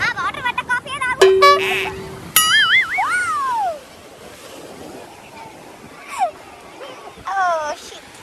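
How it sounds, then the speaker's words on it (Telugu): Ocean waves wash onto the beach near Chirala as a soft, low surf rumble, partly covered by whistling, swooping effect sounds early on. "అలా మాకు ఫుల్ వేవ్స్ అలా వచ్చేసాయన్నమాట"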